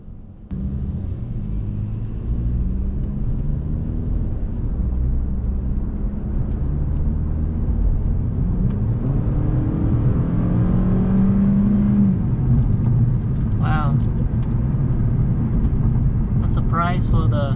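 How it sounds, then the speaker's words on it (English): A 2018 Toyota Camry with stock exhaust and an 8-speed transmission rumbles and rises as it accelerates, a steady low drone that climbs in pitch, with a few faint chirps near the end. "the stock exhaust has got some pretty good sound"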